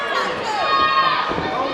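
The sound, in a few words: wrestling crowd reacting to a near-fall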